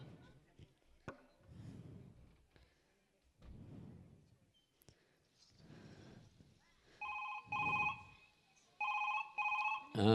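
Telephone rings during a phone call: after several stretches of speech, bright electronic ring bursts repeat in short pairs near the end, fairly close and loud.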